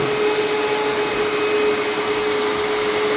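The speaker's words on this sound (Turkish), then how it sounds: "ben halıyı süpürüyorum" A vacuum cleaner runs over a carpet in a home, producing a loud, steady, unbroken whine with a strong tonal hum and broad airy rush, close up and alone.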